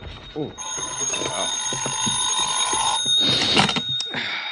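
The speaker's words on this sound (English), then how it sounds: "my phone rang the next morning" An old-time radio drama telephone rings loudly with a shrill, continuous metallic bell, overlapping a voice before and during the ring.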